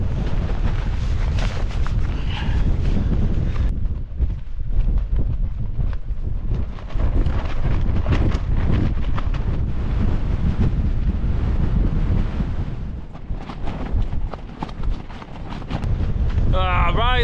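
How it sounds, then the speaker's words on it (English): Strong wind buffets the microphone on a mountainside near Pike of Stickle in the Lake District, a loud, continuous roar with gusting swells that barely lets up throughout. "Wow, that is pretty damn windy."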